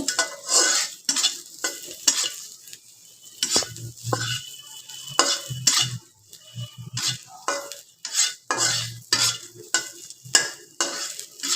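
Oil sizzles and crackles in a pan as garlic and green and dried chilies fry, while a spatula repeatedly scrapes and stirs, clinking against the metal in an uneven rhythm.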